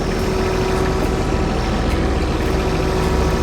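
A John Deere riding mower engine runs as the mower reverses off its deck: a continuous loud, low engine drone with a steady idle-like hum throughout.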